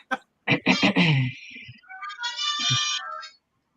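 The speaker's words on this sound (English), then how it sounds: "that's my phone ringing." A mobile phone plays a ragtime ringtone, a bright tinkling melody ringing out clearly in a quiet room, briefly overlapping a short spoken remark at the start.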